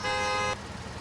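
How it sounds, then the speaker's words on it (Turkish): One short, loud pickup truck horn blast in the video game Car Simulator 2, lasting about half a second, then it cuts off to low background noise. "O kadar korna çalıyoruz"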